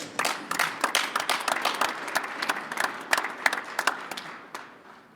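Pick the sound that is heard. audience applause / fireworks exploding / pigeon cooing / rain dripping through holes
audience applause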